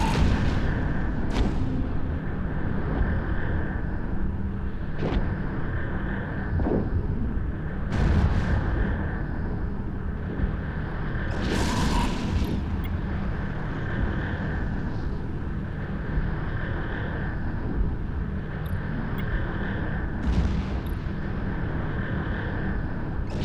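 Heavy weapon fire pounds a Vexor ship in the space game EVE Echoes, a dense continuous rumble of booming shots and blasts with repeated louder impacts, no voices.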